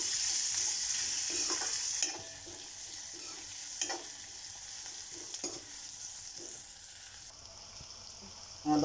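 Finely chopped small onion sautéing in a pan for hotel-style dal tadka, a steady hiss of frying with scraping stirs and spatula clinks recurring throughout, close and moderately loud.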